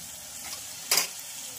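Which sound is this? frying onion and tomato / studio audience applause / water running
frying onion and tomato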